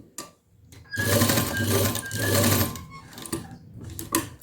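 Sewing machine stitching a V-neck close along buckram, with a rapid mechanical whir in a few sustained bursts separated by brief pauses and small clicks, close and fairly loud.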